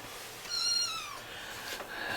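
A kitten gives a couple of short, high meows close by, fairly soft over a quiet room background.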